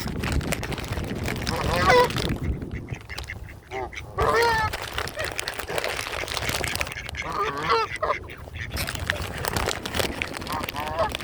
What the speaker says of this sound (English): Birds. Hope they like popcorn.